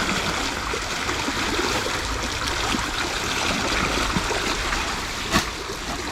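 Water flowing steadily through a farm irrigation channel, a continuous broadband rushing and trickling close by, with a brief louder splash near the end and no talk.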